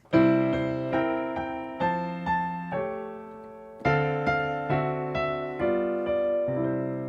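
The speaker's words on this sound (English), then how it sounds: "which is called the secondary dominant technique, and it sounds like this." Piano chords in a secondary dominant progression struck one after another in a steady, moving sequence, each ringing and fading before the next, played alone.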